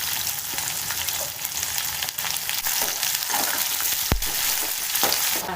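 Cinnamon, cloves, cardamom, star anise, curry leaves and onion sizzle in hot oil for a tempering for mutton kuzhambu, a continuous crackling fry with occasional stirring clinks and a sharp knock near the end.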